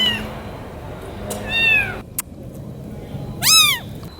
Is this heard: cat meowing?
yes